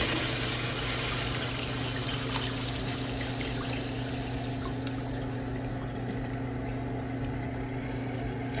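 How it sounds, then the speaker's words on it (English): A Kohler Branham second-generation stall urinal flushes with a steady rush of running water that continues unbroken and fairly loud, slowly easing off toward the end. "Let's have a look at the flush."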